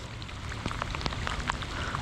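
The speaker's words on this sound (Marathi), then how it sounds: "बघताय कसा मस्त पाऊस पडतोय" Rain falls steadily outdoors during a sudden heavy downpour near deep water, a soft continuous hiss scattered with individual drop taps, with no voices.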